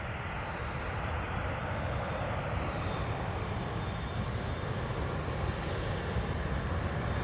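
A British Airways Airbus A320, about 15 years old, rumbles steadily at Amsterdam Schiphol Airport, a broad continuous engine roar holding level throughout with no voices.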